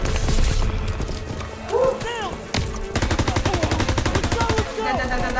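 Sniper and rifle fire crackle during a D-Day battle in Call of Duty WW2, with rapid rhythmic shots and sharp bursts layered over battlefield noise and shouting voices.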